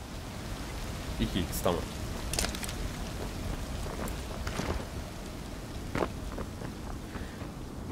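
Steady rain in the video game Ring of Elysium patters evenly throughout, with scattered louder drop hits, while players talk over it.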